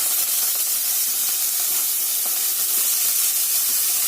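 Potatoes frying in hot oil with whole cumin seeds and dried red chilli, a loud, continuous bright hiss and spatter lasting throughout with no talking.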